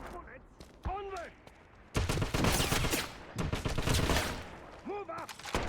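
Heavy bursts of suppressing gunfire in the Xbox 360 game Wolfenstein, loud dense volleys from about two seconds on over a low rumble, with brief shouted voices and harmonic calls before and near the end.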